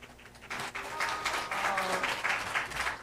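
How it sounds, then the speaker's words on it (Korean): Church congregation claps together in a sustained round of applause, steady and fairly close, filling the hall for about three seconds. "우리 박수 한번 쳐주세요."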